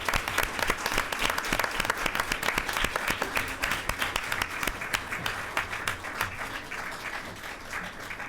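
An audience at a Monrovia Unified School District board meeting applauds and cheers for school staff, dense continuous clapping that stays loud throughout and fades slightly near the end.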